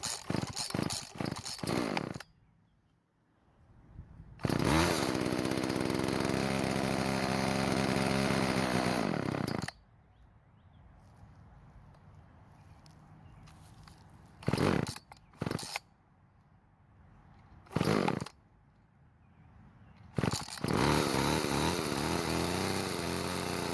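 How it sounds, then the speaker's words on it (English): Homelite chainsaw engine repeatedly starting and revving in loud roaring bursts, close by, with a quieter low idle in between that struggles and drops away during repair testing. "So it ran, but it didn't want to idle with the choke off."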